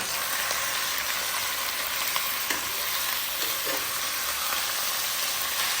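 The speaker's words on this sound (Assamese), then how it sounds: "চ' এতিয়া মাংস দিম।" Pieces of duck meat fry in a hot pan with a dense, loud, unbroken sizzle that holds steady throughout.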